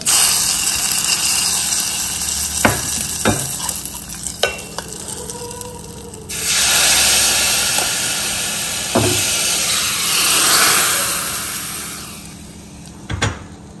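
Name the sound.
hot tempering poured into mustard mango dish, sizzling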